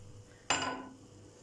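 A pot holding four cups of water set down on a kitchen stovetop with a single sharp metallic clank and brief clatter, close and loud, then quiet ringing decay.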